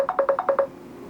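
An incoming call on a telephone sounds as a quick run of six evenly spaced electronic beeps, close and clear, then stops with no voices.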